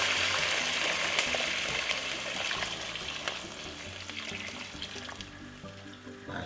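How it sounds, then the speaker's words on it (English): About three cups of water pouring into a pot for a homemade jerk chicken sauce, a steady close rushing splash that tapers slightly, heard alone without talk. "we're going to add some water to it. Roughly 3 cups of water."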